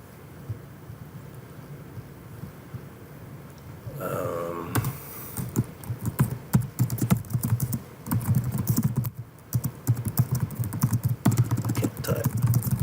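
Rapid keyboard typing while setting up an assignment in an online grade center, a steady stream of close, dry clicks and key taps in irregular bursts over a faint background hum, with no talking.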